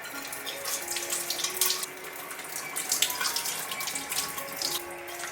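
A squab is washed under a running kitchen tap, a steady close splash of water with fluctuating gurgles as it hits the bird and sink, no voices.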